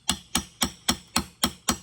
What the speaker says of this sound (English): So I'm just striking it with my hammer